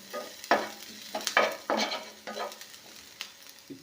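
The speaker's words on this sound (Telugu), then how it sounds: "ఇలా ఆనియన్స్ని, పచ్చిమిరపకాయలని వేగించాలి" Onions and green chillies frying over a low flame in a pan, stirred in several distinct scraping strokes over a soft sizzle, close by and uneven in rhythm.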